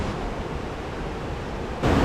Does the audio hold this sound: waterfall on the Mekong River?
yes